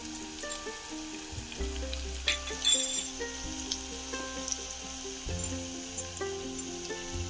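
Onions and ginger garlic paste frying in a pan: a steady sizzle and hiss with occasional stirring, heard under tonal background music.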